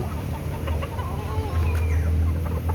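A young stag rooster clucking in a cage, giving several short, close clucks over a low, steady background hum, with no talk.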